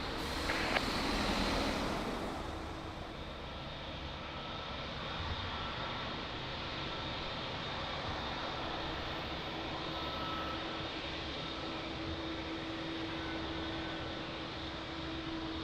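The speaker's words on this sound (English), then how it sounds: "Beautiful 787-9 American." American Airlines Boeing 787-9 at Lisbon Airport, a loud, steady jet engine roar with a brief louder swell at the start, holding as a broad continuous rush throughout with no talking.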